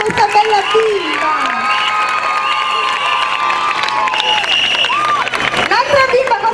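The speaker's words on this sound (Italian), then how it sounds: "Per favore, fate un applauso di incoraggiamento a questa bella bimba." Audience at a village corrida event in Pratola Serra cheering and clapping in encouragement, a lively crowd with children's shouts and whistles mixed through, while a presenter speaks over it.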